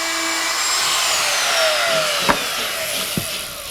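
An electric router bores through a drywall panel to cut out an electrical box opening, giving a steady high whine with two brief knocks near the end.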